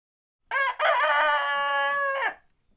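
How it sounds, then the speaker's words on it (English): A rooster crows once, loud and close, in a long sustained cock-a-doodle-doo that follows a short clucking lead-in and is heard on its own against silence. "This is what a chicken sounds like."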